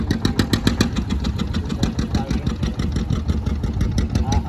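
A boat engine chugs at low speed on the Narmada river near a ghat, a steady close rhythmic throb of pulses that keeps an even pace, with faint voices now and then.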